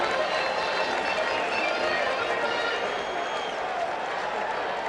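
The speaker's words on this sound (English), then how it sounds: "The crowd trying to spur him on now" Steady roar of a large ballpark crowd cheering and applauding at the 1986 World Series Game 6 between the Boston Red Sox and New York Mets, a dense continuous wash of voices with no single standout.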